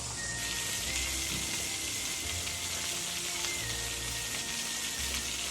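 Minced garlic hitting a hot pan while salmon, steak and pasta cook nearby, a constant crackling sizzle like light rain, close and even throughout, with a faint tone running beneath.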